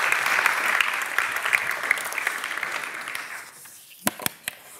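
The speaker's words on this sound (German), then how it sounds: "Applaus für Professor Dr." An audience at a lecture event applauds a professor, a dense steady clapping that gradually thins out and fades, ending with a few scattered loud individual claps near the close.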